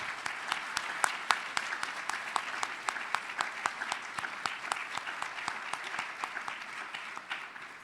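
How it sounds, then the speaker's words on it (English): An audience at an awards ceremony clapping steadily for the nominees, a dense even patter of many hands at moderate distance, with no voices standing out. "Let's give them all a huge round of applause."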